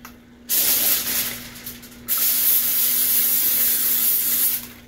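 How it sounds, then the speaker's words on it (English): Cooking spray hisses from a can onto aluminium foil that is about to cover a lasagna, two close bursts, a short one and then a longer steady spray, with no talking. "I'm spraying that, and I'm going to put it right over the top."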